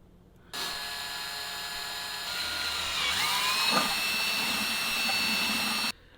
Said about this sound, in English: So we have to drill this one here.